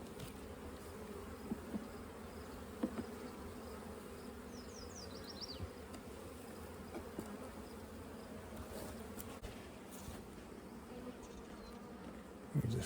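Honey bees buzz in a struggling hive, a faint, steady hum with occasional soft knocks and rustles, distant and quiet throughout.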